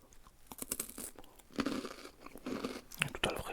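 Crunchy bread topped with fresh ewe's milk is bitten and chewed close up, with repeated crisp crackling crunches in an irregular rhythm.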